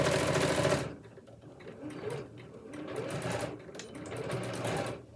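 A sewing machine runs in short bursts of rapid stitching, close by, pausing briefly between runs.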